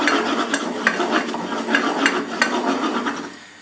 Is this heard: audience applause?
no